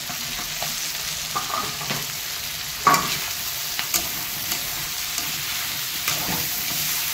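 Chicken fries in a pan with onion and green chilli, giving a steady soft sizzle broken by a few sharp stirring clinks and scrapes of a utensil against the pan.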